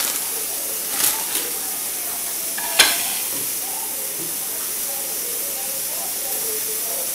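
Water with pepper and cloves heating in a pot on a kitchen stove, a steady bright hiss and bubbling sizzle with a few sharp clinks, continuous and close.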